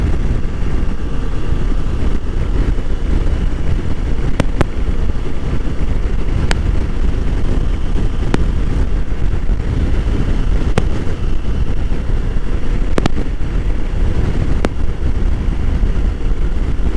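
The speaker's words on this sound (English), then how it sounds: "Oh, a bit windy too." Steady wind buffets the microphone near Lake Coeur d'Alene, a constant loud rumble with a few sharp clicks, no voices heard.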